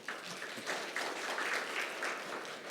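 A symposium audience at a judicial policy research institute applauds a keynote speaker, with a dense, even wash of clapping from many hands throughout, moderately distant.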